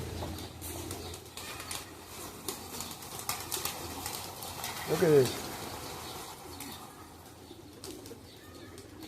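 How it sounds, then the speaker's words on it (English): Racing pigeons at a pigeon derby in Florida, wings flapping in a brief burst near the middle over soft cooing and steady crowd murmur, with someone speaking briefly. "Look how many birds are here, guys."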